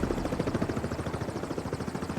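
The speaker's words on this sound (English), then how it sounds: "I kept seeing a helicopter going around and flying by" A helicopter flies overhead above thick tree cover in the Alaskan bush, with a rapid, rhythmic rotor chop pulsing steadily at moderate volume and no voices.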